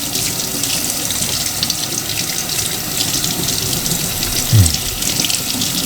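Tap water runs steadily into a sink while a baby snake is gently rubbed clean of slime under the stream, a close, continuous gush with one brief low bump near the end.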